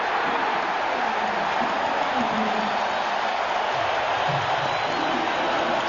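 A basketball arena crowd roars and cheers at the 1997 NBA Finals, Chicago Bulls against the Utah Jazz, as a steady, dense wash of noise that holds at the same level throughout, with faint murmurs underneath.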